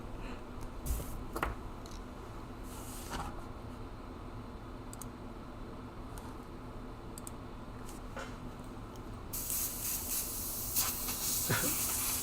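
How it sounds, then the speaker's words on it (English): An aerosol or airbrush sprays light green paint onto a She-Hulk bust, a steady faint hiss with a few clicks that grows louder and brighter in the final seconds, with no talking. "Now I'm going to spray in some light green."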